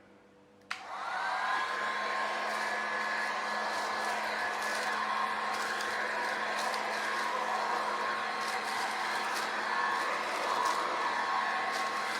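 A heat gun switches on with a click and then blows a steady, loud, even whirring hiss that holds without a break for many seconds.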